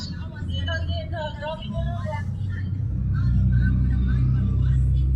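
Road traffic with a constant low engine rumble from nearby vehicles that grows louder toward the end, while people talk over it in the first half.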